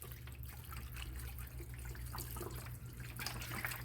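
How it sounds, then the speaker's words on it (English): Chicken broth from a carton pours steadily into a pan of cornbread and breadcrumb dressing, a continuous liquid splashing and trickling that stays close and even for a few seconds with no talking. "so I'm going to add my box of chicken broth"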